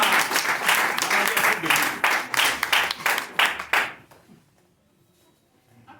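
Audience applause at a Forever Living Products training session in Togo, a dense round of clapping that fills the room for about four seconds, then cuts off abruptly into near silence with faint room noise.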